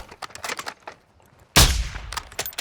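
Gunfire in Call of Duty DMZ comes as a few light, distant-sounding shots and then a sudden loud burst of close fire that rings out and decays.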